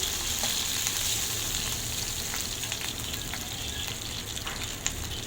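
Tomatoes frying in a pan while chicken drumsticks are being cooked, giving a steady, close crackling sizzle with small scattered pops throughout.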